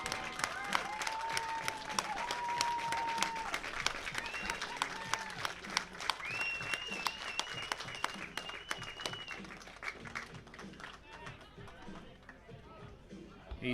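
A crowd applauds at a baseball game between Swift Current 57's and Brooks Bombers for a departing player. The clapping is sustained and moderately distant, with scattered whistle-like tones and some background chatter mixed in.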